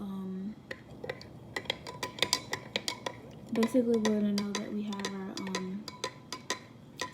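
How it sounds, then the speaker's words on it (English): A spoon stirring salt into water in a glass container, with a series of sharp clinks and scrapes against the sides, some quick and rhythmic; a voice talks quietly partway through. "Just going to continue mixing once again until we don't see anything"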